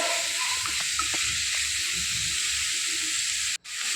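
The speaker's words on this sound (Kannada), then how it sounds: "ಈರುಳ್ಳಿ ಸರಿ ಫ್ರೈ ಆಗಿ ಕಂದು ಬಣ್ಣ ಬರಬೇಕು, ಅಷ್ಟರವರೆಗೆ ಫ್ರೈ ಮಾಡಬೇಕು." Three large finely chopped onions frying on high flame in a home kitchen, a steady loud sizzle with bright crackling hiss throughout, briefly cutting out near the end.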